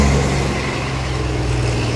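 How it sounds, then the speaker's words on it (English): Trucks rolling past near a construction site make a steady, loud low rumble of heavy engines that holds without a break for the whole stretch, with no voices. "there's a couple trucks that come flying through here every now and then"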